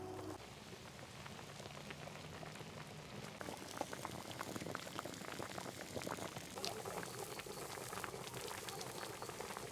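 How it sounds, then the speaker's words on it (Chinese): Pork hock soup with kelp and soybeans simmering in a pot, giving a steady close bubbling and crackling boil that keeps going without a break and with no talk over it. "把猪蹄捞起来，开始炖了哈。"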